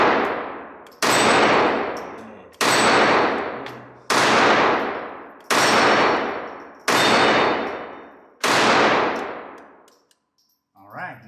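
Seven sharp metallic clangs from Walther P22 .22LR pistol rounds striking steel targets, spaced evenly about every second and a half, each ringing out with a long decaying tail, loud and close, no talking.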